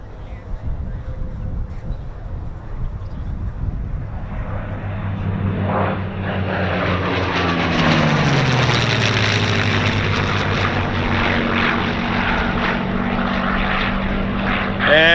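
A P-63 Kingcobra warplane makes a low pass over an airfield at a World War II airshow, its propeller engine rising from a distant drone to a loud, sustained roar with a falling pitch as it sweeps by close overhead.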